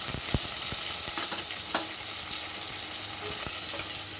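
Curry leaves sizzle and crackle in hot oil, tempered with cumin and onion, with sharp pops scattered over a steady frying hiss for a Malvani-style green pea curry. No one speaks.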